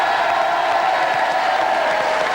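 Studio audience applause on the French TF1 show Méthode Cauet, a dense, steady wash of many hands clapping close and loud with scattered cheers mixed in, holding at full level throughout.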